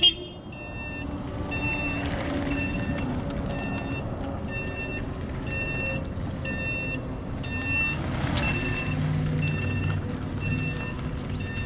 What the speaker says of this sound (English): You do have a reverse horn as well on the handle here.